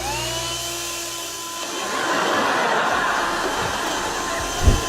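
A small vacuum cleaner whirs steadily with a high-pitched motor whine and airy rush, continuing at a constant level before a brief bump at the end.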